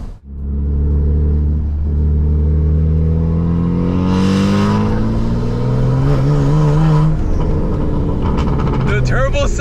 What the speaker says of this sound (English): The turbos sound crazy.